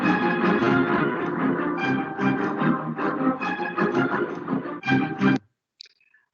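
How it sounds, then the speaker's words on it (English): Orchestra string family of violin, viola, cello, bass and harp playing a lively rhythmic passage of bowed and plucked notes, stopping abruptly near the end into near silence. "This is the string family: violin, viola, cello, bass, and harp, and it sounds like this."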